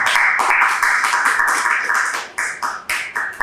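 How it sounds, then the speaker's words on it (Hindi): An audience claps loudly and continuously in a lecture hall, a dense burst of applause that thins into a few scattered separate claps near the end. "यहीं पे आप लोग इतनी ऊंची तालियां बजा लें"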